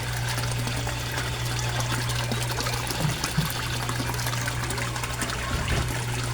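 An Aquaspeed submersible pump runs in a koi fish tank, a continuous low hum under a steady close wash of bubbling, trickling water, with a couple of brief splashy knocks midway.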